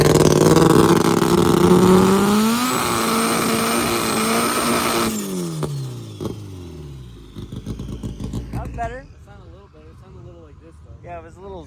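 A race car at the track with fuel pump trouble roars loudly at high revs, then its engine note falls away and settles into a rough idle. A voice comes in near the end.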